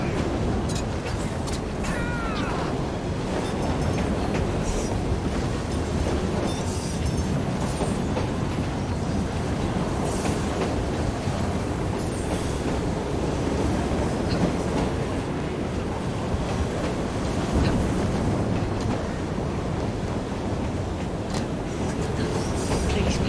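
A steam train in the video game Assassin's Creed Syndicate rumbles along steadily with a continuous clatter of wheels on track and occasional metallic squeals, loud and close throughout.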